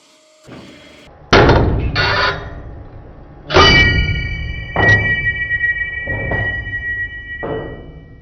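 A 300-ton hydraulic press crushing a Soviet drill bit gives several loud metallic cracks and clangs, with sharp snaps at intervals and ringing tones between, close and without speech.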